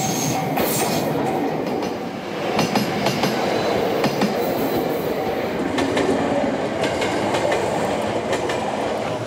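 A train rumbles along a railway through the Kanazawa countryside among gardens, rice paddies and houses close to the tracks, a loud, continuous rolling roar with rhythmic clickety-clack wheel beats and faint squeals, heard close up with no talking.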